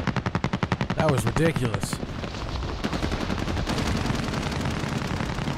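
Automatic weapon fire in Call of Duty: Warzone comes as a fast, evenly spaced burst, and heavy shooting keeps going in the background while someone talks over it.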